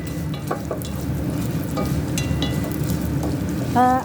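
Vermicelli frying in oil with rice, a loud continuous sizzle with occasional scraping clinks of stirring, close and steady throughout.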